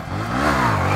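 A motorcycle engine revs up loudly and close by, its rising harmonic whine climbing and then holding steady at high pitch, with no talking over it.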